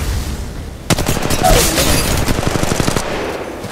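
Rapid bursts of automatic gunfire from an Apex Legends firefight, a loud, dense fusillade starting abruptly after a second and continuing in quick repeated shots with a few heavier booms, no voices.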